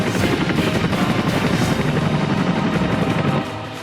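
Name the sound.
Chinook helicopter of the Indian Air Force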